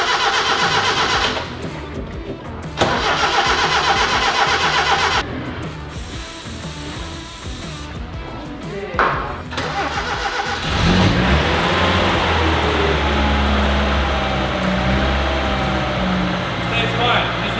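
A Ford XE being cranked and fired up: whirring starter bursts broken by short gaps, then the engine catches and revs, settling into a rough idle. Someone talks over the cranking.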